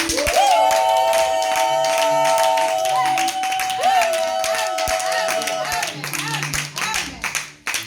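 A wedding congregation in Stockholm claps loudly and continuously, with voices raised in acclaim and a long sustained cheer ringing over the applause before the clapping thins out toward the end.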